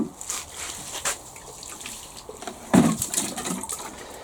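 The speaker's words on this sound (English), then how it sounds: "I'm now going to pour some across the floor," Water poured from a container across a greenhouse floor to raise humidity, splashing and trickling in short uneven bursts, close by with no talking.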